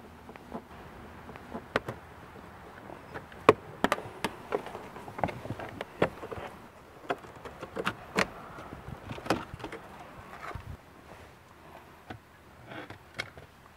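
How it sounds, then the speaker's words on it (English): Plastic clips snap and tap as the top dashboard cover and an air vent are pried out of a Passat, a series of sharp close clicks at irregular intervals over a quiet background. "pop off this top cover and then push out the vent"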